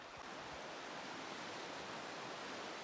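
Welbourne Creek flowing steadily beside a backcountry trail, a constant broadband rush of water that stays even and full throughout, with no voices.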